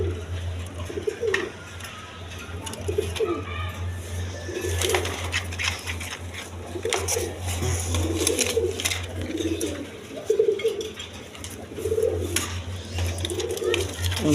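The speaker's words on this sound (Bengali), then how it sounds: "এখানে এক পেয়ার অরেঞ্জ চিলা কবুতর আছে" A pair of orange chila pigeons coos repeatedly at close range, the rolling calls coming in recurring bursts over a steady low hum.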